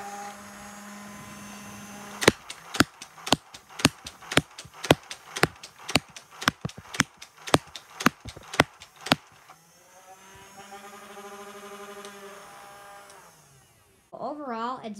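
Full-auto Lego-shooting gun firing Lego rounds: about fourteen sharp, evenly spaced clacks over a motor whir, then the whirring continues alone with a person speaking over it.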